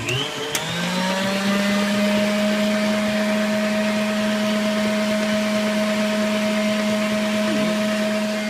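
Electric hand mixer whipping cream into homemade butter: a loud, steady motor whine that spins up at the start and then holds an even pitch throughout, with no talking.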